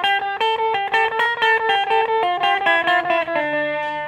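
Electric guitar played through a Madbean Aquaboy analog delay pedal being calibrated, with unwanted distortion: a run of picked single notes and chords, steady and loud, each with a gritty, fuzzy edge and repeating delay trails, no talking.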